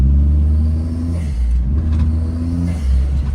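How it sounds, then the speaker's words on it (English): A turbocharged Daihatsu Naked fitted with a Hummer body kit accelerates hard nearby, its engine rumbling loud and deep with a throaty rev that dips and surges across the pull, no talking. "Let's punch it down this block really quickly."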